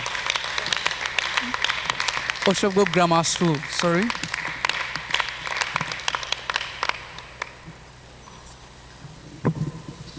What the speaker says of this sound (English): A round of applause for Oshogbo High School.